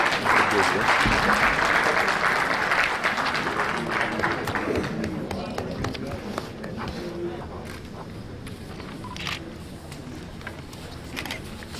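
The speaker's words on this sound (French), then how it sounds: "Sous vos applaudissements, s'il vous plaît." Audience applause at a partners' forum in Diamniadio, loud and dense at first, then gradually thinning and fading over about twelve seconds, with some murmured voices underneath.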